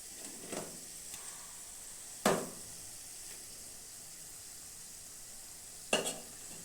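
A chickpea-greens tikki fries in hot oil with a soft, steady sizzle. A few sharp clinks from a utensil against the pan break in now and then, and nobody talks.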